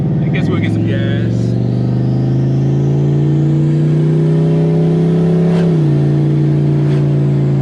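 A Ford Mustang engine revs up on a single throttle pull, its steady loud drone rising gradually in pitch and then dropping slightly near the end, with a voice speaking briefly at the start.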